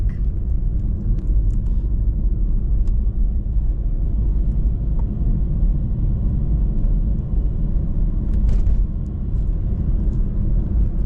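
A car drives along a tree-lined back road out of Julian in the San Diego County backcountry, giving a steady, loud low rumble of engine and road noise throughout with no talking.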